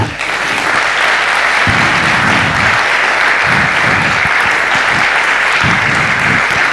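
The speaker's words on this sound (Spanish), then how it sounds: "¿Puede darle un aplauso al Señor?" A church congregation applauds the Lord during a Spanish-language sermon, a loud, dense and sustained wash of clapping that fills the hall from start to finish, with little speech over it.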